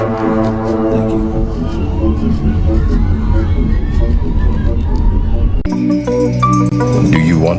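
A large crowd watching an eclipse, a dense roar of many voices and cheering with sustained horn-like tones, loud throughout, then shifting abruptly near the end into a brighter, more tonal mix.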